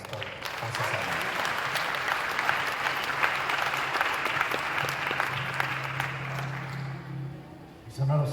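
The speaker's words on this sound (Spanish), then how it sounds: "Nuevamente, un aplauso por el apóstol José Salinas." A church congregation applauds at an evening Shavuot congress service, a dense sustained roar of clapping that fills the room before fading near the end, with a low hum and a voice breaking in at the close.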